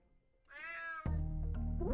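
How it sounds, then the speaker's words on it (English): A cat meows in the stealth game UnMetal: one drawn-out, rising and falling meow, loud and close, then cut off by a sudden burst of loud in-game sound with heavy low rumble. "Damn cat."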